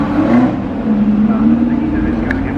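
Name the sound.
Opel Firenza modified race car engine revving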